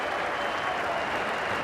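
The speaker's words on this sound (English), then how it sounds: "Generous applause there" Steady, dense applause rolls from a large cricket crowd at an Australia versus India match, a brief continuous wash of many hands clapping.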